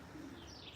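Pigeons in a loft give a soft, low cooing that rises briefly and then trails off, with faint chirps on top and no one talking.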